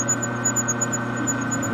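A lathe cutoff tool parts a threaded steel piston rod for a model locomotive at slow speed, giving a steady, moderately quiet machine hum with a faint pulsing high squeal above it.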